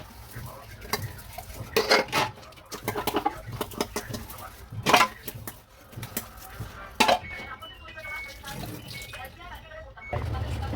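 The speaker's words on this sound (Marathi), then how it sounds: "आता भांडी घासत आहे" Dishes and breakfast utensils are washed by hand in a home kitchen, with scattered clinks and clatters of pots and cutlery amid running water, while someone speaks over it.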